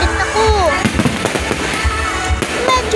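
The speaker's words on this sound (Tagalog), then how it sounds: "Medyo sunod-sunod na nga ang pagpuputok ng fireworks." Fireworks bursting over a town plaza during a festive night, a rapid series of deep booms and crackles with whistling rises, loud and continuous, with crowd voices and talking mixed in underneath.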